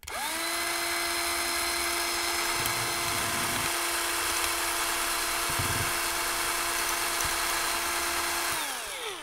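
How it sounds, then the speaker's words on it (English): A power drill bores into a plastic laptop casing, a steady high whine running continuously for several seconds at close range with slight grinding variations, then spinning down at the end. "Okay, I'm gonna drill through, hopefully cleanly."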